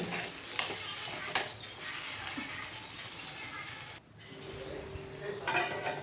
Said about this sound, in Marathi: तर आता ही भाजी आपण हलवून घेऊ